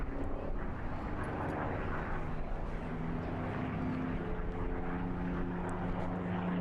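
Display aircraft flying at an air show during a Victory Festival, a continuous broad engine roar sustained throughout with no clear rise or fall.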